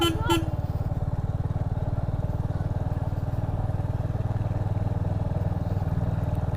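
A motorcycle ridden in second gear through a village putters steadily and close by throughout, with a fast, even engine pulse and faint voices underneath.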